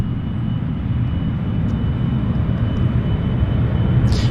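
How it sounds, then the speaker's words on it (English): Delta Embraer regional jet bound for Seattle, flight 3630, at Vancouver airport: a steady low engine rumble holding near and constant, with a faint thin whine above it and no talking. "We got a Delta Embraer right there."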